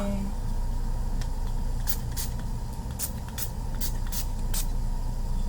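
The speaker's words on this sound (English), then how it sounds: "And then set it with my Urban Decay All Nighter Setting Spray." Several short bursts of spraying hiss from an Urban Decay All Nighter makeup setting spray, close and fairly loud, repeated in a quick irregular series over a steady background rumble.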